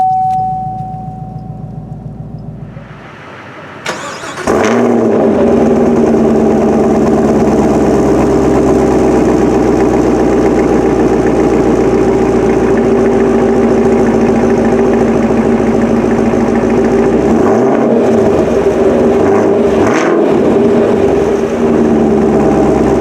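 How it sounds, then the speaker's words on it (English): A 2017 Chevy Camaro SS 1LE fires up with a sharp starter crank and roar, then settles into a loud, steady, deep idle rumble close by, with a couple of brief throttle blips near the end. "go ahead and locate the engine start stop button right there"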